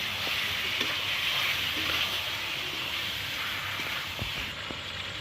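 Chicken meat sizzling as it goes into a hot pan with chili powder and turmeric for chicken kosha, a steady broad hiss and crackle that stays even and fairly loud for several seconds with no talk.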